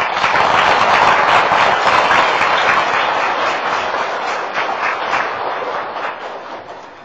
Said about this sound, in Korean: 우리 자비의 하느님께 감사하는 박수를 드립시다